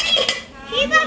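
A child handles a metal kadhai among cookware on a store shelf, giving a few close metallic clinks and scrapes, with faint voices in the background.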